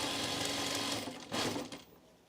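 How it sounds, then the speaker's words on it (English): A sewing machine stitching a garment, a steady close mechanical whir that pauses briefly, restarts, then slows to a stop. "and I'm just gonna sew it."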